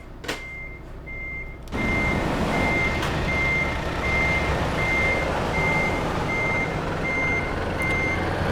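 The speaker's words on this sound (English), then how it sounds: "Okay. I will reverse." A reversing truck sounds a steady series of loud, evenly spaced beeps over a constant engine rumble, heard from inside a vehicle on a Lille to Aberdeen journey with no talk.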